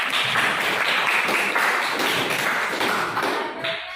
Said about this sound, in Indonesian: silakan beri aplaus untuk kelompok Nabila